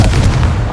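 In the video game Hogwarts Legacy, a Confringo explosive spell goes off as a loud, deep, booming blast with a rumbling low end, sustained for under a second.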